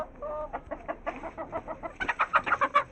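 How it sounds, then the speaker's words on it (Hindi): An Aseel hen clucks in short, repeated bursts while being caught and shut into her coop, the calls growing louder and quicker toward the end. "हमारी शेरनी मुर्गी तो बाहर आ गई है"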